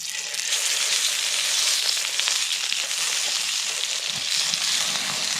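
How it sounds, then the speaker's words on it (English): Belly pork sizzles in sesame oil in a frying pan at an outdoor woodland cookout, a close, steady, bright crackling hiss throughout. "So our frying pan is on. We have sesame oil. So whack that in our pan."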